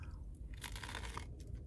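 Close, quiet crunching from someone chewing crunchy toast topped with scrambled egg and avocado, a series of crisp bites and chews with no talk.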